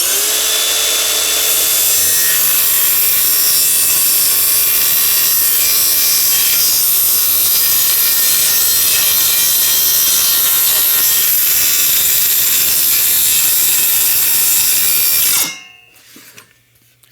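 A hand saw rasps steadily through a clamped wooden board for a long unbroken stretch, close and loud, with dense back-and-forth scraping that stops abruptly near the end.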